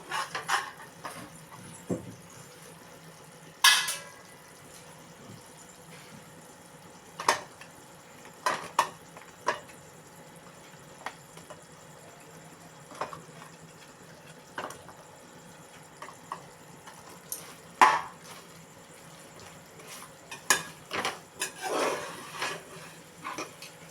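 Dates being stirred into melted jaggery in a pan, with scattered clinks and scrapes of a utensil against the metal, several sharper knocks spread across the stretch and a faint background hum between them.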